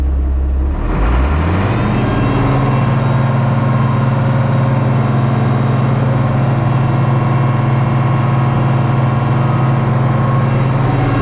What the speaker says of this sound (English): I'll turn the PTO on to start mixing.